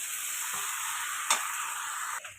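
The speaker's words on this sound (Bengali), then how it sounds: "আর সুন্দর করে আমি কিন্তু কষাতে থাকছি।" Bhetki fish bones are stir-fried in a pan under a steady bright sizzle, with a sharp spatula scrape in the middle and a soft clunk near the end.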